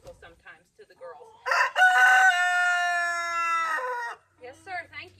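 Backyard flock hens, led by a grumpy head hen, with soft clucks before and after one long, loud, drawn-out call that holds steady for over two seconds.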